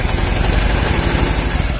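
A small Honda Vario carbureted scooter engine runs loud and close, its throttle blips sputtering and stumbling unevenly instead of revving smoothly.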